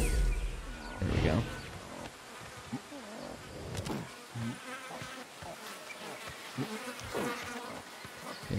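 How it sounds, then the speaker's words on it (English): Bees buzz in a forest area of the game Ancestors: The Humankind Odyssey, a steady insect drone with brief louder passes close by, heard beneath someone talking. "Bees are probably gonna sting me over here"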